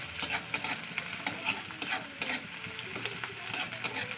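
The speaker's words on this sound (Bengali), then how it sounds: "পেঁয়াজটা এবার লালে করে ভেজে দিতে হবে" Onion frying in mustard oil in a wok gives a soft, close sizzle broken by quick, rhythmic spatula scrapes and stirring clatters.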